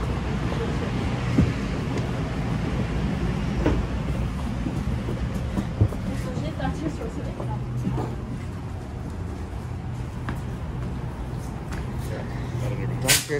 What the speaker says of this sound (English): All right, we're getting off the train